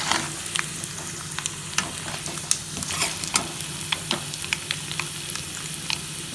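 Tempering of curry leaves and a pinch of asafoetida sizzles and crackles in hot oil for raw banana curd chutney, a steady close frying hiss with scattered sharp pops and a few stirring clicks, no voices.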